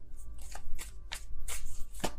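Tarot cards riffled and shuffled by hand, a run of quick crisp papery bursts in a steady rhythm, close and fairly loud, with no voices.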